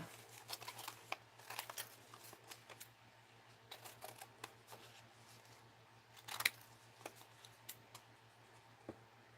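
Scissors rough-cutting paper, a quiet, irregular run of crisp snips and rustles close up over a faint steady hum, with one louder cluster of cuts near the end.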